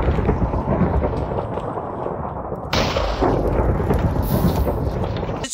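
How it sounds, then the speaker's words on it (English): A summoned lightning bolt striking in Minecraft 1.17 snapshot gameplay, a loud rolling thunder rumble that swells with a sharp crackling burst midway, over a steady rain-like hiss. "Summon lightning bolt."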